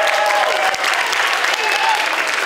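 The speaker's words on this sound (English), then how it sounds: "Give him a round of applause, please" A concert audience gives a sustained round of applause, steady and full-bodied clapping from a crowd in a hall, with some scattered voices underneath.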